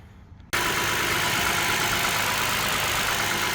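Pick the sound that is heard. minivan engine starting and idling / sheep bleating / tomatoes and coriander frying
minivan engine starting and idling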